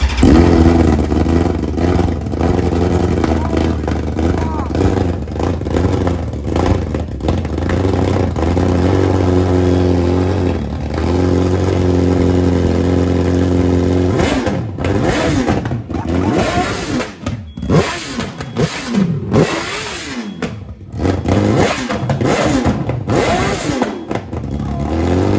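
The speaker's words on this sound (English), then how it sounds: "we figured why not start it up and just see what it sounds like." A BMW M1000RR motorcycle fitted with a full titanium exhaust idles loudly up close, then is revved repeatedly in sharp rising and falling blips during the second half.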